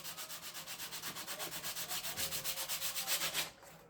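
Sandpaper is rubbed back and forth over the wooden hull of a ship model in quick, even strokes, a rhythmic rasping that repeats about seven times a second before stopping abruptly near the end.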